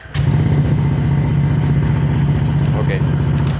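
A motorcycle running on a LiFePO4 battery pack is started with its electric starter and the engine catches almost at once into a steady, close, loud idle, with someone talking over it.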